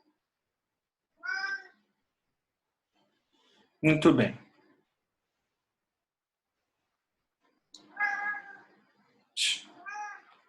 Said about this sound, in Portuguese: tem uma gata aqui miando do meu lado